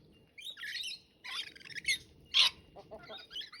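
Wild birds calling at a cabin park in Wonboyn, New South Wales, Australia: a run of bright squawks and chirps in several short bursts, with one loud close call near the middle, over a low steady background.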